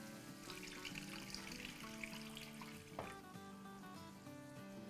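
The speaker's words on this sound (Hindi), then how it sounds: "और इसमें अब हम डालेंगे 1 कप पानी।" A cup of water is poured into a simmering tomato masala with cashew powder in a pan, giving a steady sizzling, bubbling wash with a sharp splash midway, heard close and quiet without speech.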